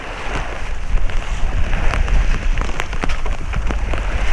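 Steady rain patters and hisses across a sailing boat at sea, with scattered sharper drops and a low rumble of wind and engine beneath, close and continuous.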